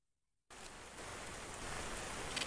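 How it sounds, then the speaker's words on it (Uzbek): Steady rain falls in the zombie video game Into the Dead 2, cutting in abruptly from silence as an even, soft hiss of drops that builds slightly and continues alone. "U yomg'ir yoyapti."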